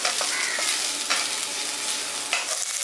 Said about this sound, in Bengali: আদা আর জিরে বাটাটা দিয়ে দেওয়ার পর এটাকে আমি একটু কষিয়ে নিচ্ছি।